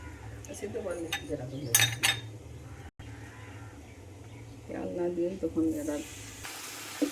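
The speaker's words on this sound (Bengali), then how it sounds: "তেলটা গরম হয়ে গেছে, এবারে শাকগুলো তেলের মধ্যে দিয়ে দিচ্ছি।" Kulekhara (helencha) greens go into hot raw mustard oil in a kadai, with clinks of a metal utensil against the pan and a brief hissing sizzle near the end, all under a person talking.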